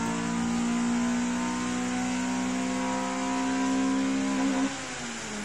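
A Honda Civic SiR with a B16A engine revs up steadily on a dyno, its loud rising engine note climbing continuously for about five seconds before it drops off suddenly near the end.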